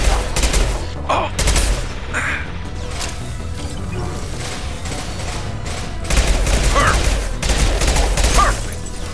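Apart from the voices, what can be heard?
gunfire in the video game Mass Effect 2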